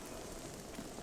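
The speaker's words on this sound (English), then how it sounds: "Oh, and here comes the rain." Rain begins falling in the video game Breath of the Wild, a dense, even hiss of drops that fills the moment steadily with no talk over it.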